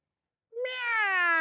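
A single clear cat meow rises out of silence and holds as a long, close, tonal cry.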